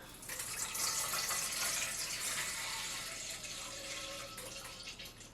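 Distilled water, 1,300 grams, pours steadily into a container, a continuous splashing rush that gradually shifts in tone as it fills, then tapers off.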